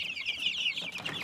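Welsummer and black Marans chickens cluck and chatter up close in a steady, busy stream of farmyard calls.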